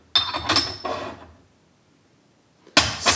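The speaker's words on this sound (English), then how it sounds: "Super fast pouring." Tea pours fast from a clay teapot in a bright splashing stream lasting about a second, then a silent pause before another splashy burst begins.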